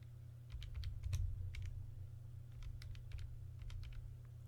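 Numbers are keyed into a calculator for a maths subtraction, a series of light, scattered button taps over a steady low electrical hum.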